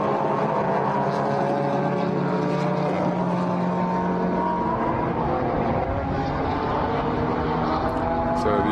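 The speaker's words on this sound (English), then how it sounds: "Good to have the Mustang on board, makes a great sound," A Ford Mustang GT4 race car at the Nürburgring rumbles steadily down a straight, heard from onboard as one continuous, loud, droning engine note.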